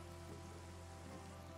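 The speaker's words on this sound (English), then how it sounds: "And it's raining." Minecraft rain falls as a faint, steady hiss of drops, soft and even throughout, with no voices over it.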